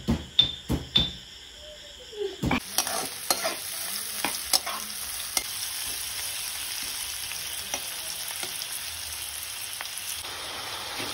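Mushroom curry frying in a pan, a low steady sizzle with occasional scrapes and clinks of stirring; a few sharp knocks come first, then the quiet crackle runs on.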